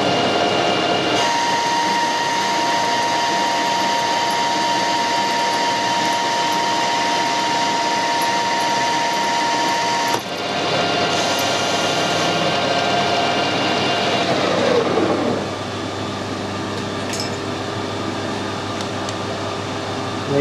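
Metal lathe running during a reaming pass, taking a light one-thousandth cut: a steady loud mechanical whir with a high tonal whine that drops out midway, then shifts to a lower, rougher hum as the cut ends.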